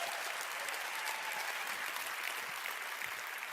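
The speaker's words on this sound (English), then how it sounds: "Huge round of applause." Steady applause from an audience fills the whole stretch, a dense, even patter of many hands clapping with no pauses.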